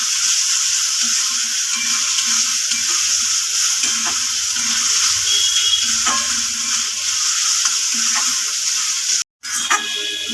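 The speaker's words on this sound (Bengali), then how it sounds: "এটা একটু ভালো করে ভেজে নেবো" Ginger-garlic paste fries with browned onions in a pan, giving a steady, close sizzle for the whole stretch, broken by occasional light scrapes and clicks of stirring.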